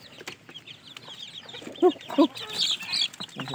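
Aseel and Shamo breeding chickens cluck softly in a few short bursts at moderate distance, with faint scattered bird calls around them and no talking.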